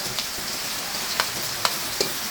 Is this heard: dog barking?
no